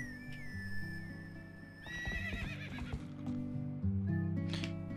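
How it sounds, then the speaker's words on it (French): Epona, the horse in Zelda: Twilight Princess, gives a loud whinny and then clip-clops in on hooves, all set against game music with no talk. "Voilà Epona qui débarque"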